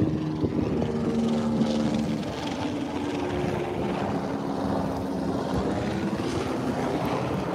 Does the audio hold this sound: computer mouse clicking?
no